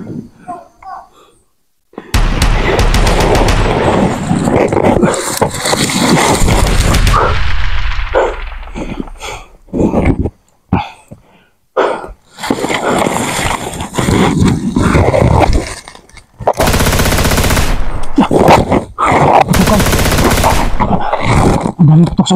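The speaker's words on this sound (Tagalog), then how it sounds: "Ang daming putok sa unahan." Bursts of gunfire crackle in rapid, dense volleys, loud and chaotic with brief pauses between clusters of shots, while people talk over the noise.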